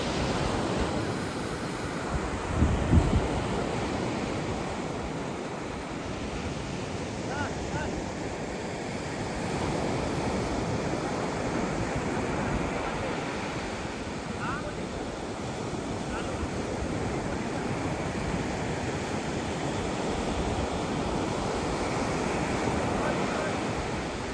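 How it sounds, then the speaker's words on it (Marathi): Ocean surf washes onto a dark seashore at night in a steady, distant roar, with a touch of wind and faint voices now and then. "समोर इकडे समुद्र दिसत नाही काय"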